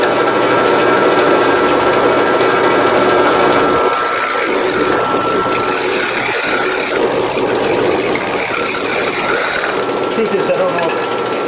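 A wood lathe spins up with a small live-edge cherry bowl blank chucked on it, giving a steady rushing whir with some rubbing. Someone speaks briefly over the machine.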